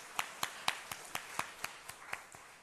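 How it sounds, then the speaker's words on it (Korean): Church youth service, with hands clapping in a faint, steady rhythm of about ten evenly spaced claps that taper off slightly toward the end. No voices are heard. "우리 박수로 한번 축복하도록 하겠습니다."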